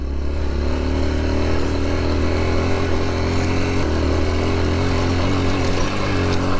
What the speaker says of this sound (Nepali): बाइकले नि तान्न हुँदैन त यार,